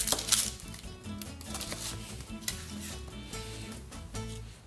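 Garlic halves and quartered onion fry in hot lard for carnitas, a soft continuous sizzle with clinks of utensils and pan, fairly quiet and close, without speech.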